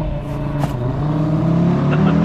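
An Audi RS Q3 Sportback with ESP switched off launches from 0 to 100 km/h, its engine droning steadily and climbing in pitch, heard loud from inside the cabin under a voice.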